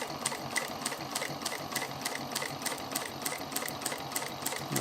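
Juki 1541 triple feed walking foot industrial sewing machine stitching at a long stitch length, a steady close mechanical hum with rapid regular ticking needle strokes throughout.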